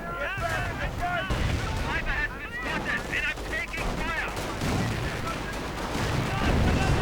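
Artillery fire and gunfire roar through a video game battle with Grenadiers, a dense, continuous wash of blasts and shots that stays loud throughout.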